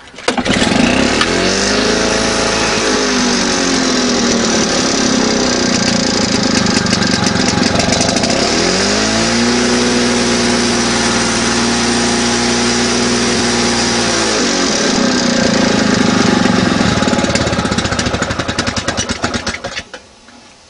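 A Victa G4 lawn mower with a freshly rebuilt carburettor starts and runs loudly and close, its small engine note sagging and rising several times before cutting out at the end.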